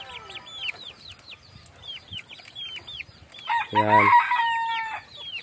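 Chickens, mostly young cockerels raised from chicks at a village farm, cluck and chirp in bursts, with one brief crow rising loud midway. Someone speaks briefly among them at close range.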